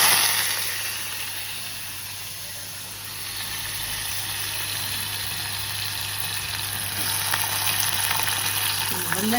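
Potatoes for a Gujarati potato curry hit hot oil already seasoned with curry leaves, setting off a loud, steady frying sizzle with a broad hiss that holds throughout and brightens slightly toward the end, with no voices.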